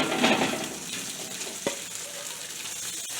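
Noodles frying in a stir-fry pan, a steady bright sizzle with a short clink of utensil against the pan partway through, close and continuous, no voices.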